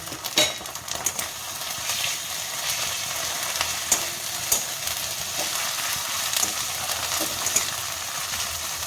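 Baan fish (eel) stir-fries with ginger and garlic paste in a pan, a loud, constant sizzle broken by repeated scraping and clinking of the spatula against the metal.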